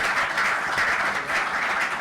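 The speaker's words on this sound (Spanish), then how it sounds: "un aplauso para ella." An audience at a Mediterranean literature talk applauds the interpreter, a continuous mass of clapping hands that stays moderately loud and even from start to finish, with no speech on top.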